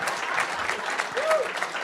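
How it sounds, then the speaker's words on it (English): Audience applause at an opening session for a spring 2025 Executive MBA programme, a steady wash of many hands clapping throughout at moderate level, with no clear voices over it. "That deserves an applause at least."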